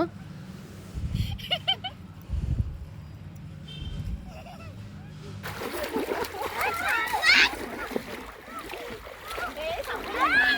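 Children splashing water at each other in play, bursts of loud, close splashing and sloshing with excited kids' voices over it, following a quieter stretch of talk.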